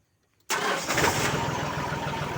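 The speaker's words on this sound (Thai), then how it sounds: "เครื่องสตาร์ทติดง่ายครับ" After a brief silence, a turbocharged 39-horsepower Yanmar tractor engine cranks and catches, then settles into a loud, steady diesel idle that continues to the end.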